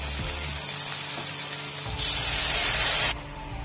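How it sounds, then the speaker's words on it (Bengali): Water poured into a pan of crab curry with fried potatoes bursts into a loud, broad hiss of sizzling for about a second, then cuts off, leaving a lower cooking noise underneath. "এখন আমি দিয়ে দেবো জল"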